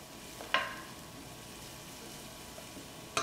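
Mushroom, white leek and shallot mirepoix cooking gently in extra virgin olive oil, a soft low sizzle held steady, with two brief sharp clinks of a utensil against the pan, close and quiet.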